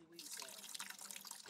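Steeped herbs being strained out of water while making water kefir, giving a steady close trickle and splash of pouring liquid that runs through the whole short moment alone.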